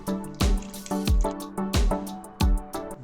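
Liquid, a mix of sour cream and water, splashes and drips into potatoes in several separate bursts, close by, with wet sloshing between pours and no voices.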